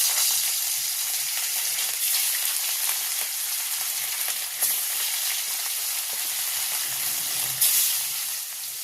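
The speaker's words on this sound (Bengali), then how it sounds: "ওটা ভেজে নিচ্ছি।" Rohu fish coated in salt and turmeric fries in hot oil in a wok, giving a steady bright sizzle and crackle throughout with occasional louder spatters.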